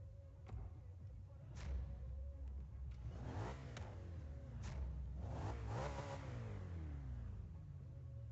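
A V8 car engine in Forza Horizon 3 revs repeatedly, climbing to a high, strained pitch and falling back several times in sweeping rises that fill the whole stretch at moderate loudness.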